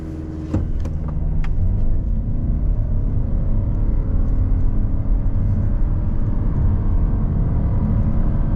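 A 2026 Toyota Camry hybrid with a 4-cylinder engine in sport mode, a few clicks and then a loud, steady engine roar building into hard acceleration, heard from inside the cabin.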